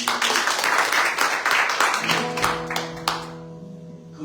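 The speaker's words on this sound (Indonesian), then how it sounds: "Beri tepuk tangan untuk" Church congregation applauding during a service in Los Angeles, dense clapping that thins out after about two seconds as sustained musical tones rise underneath and a few last claps trail off.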